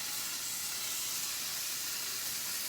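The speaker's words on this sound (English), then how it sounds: "We want it to sizzle when we drop it in." A steady, loud hissing sizzle of venison backstrap hitting a hot pan holds constant without pause or voices.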